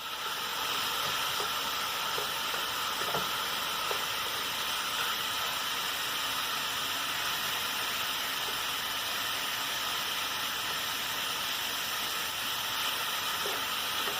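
Ground beef browns in a pan with a steady, even hiss of sizzling fat throughout, broken by a few faint clicks of a utensil breaking up the meat, with no voices.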